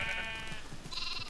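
Sheep in Minecraft bleat in a couple of clear, close calls over a steady game backdrop, with the second bleat higher and brighter.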